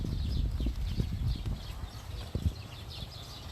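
Donkeys walk around a hot paddock at an equine aid center in Egypt, their hooves making soft, uneven clip-clop steps close by, with faint background activity.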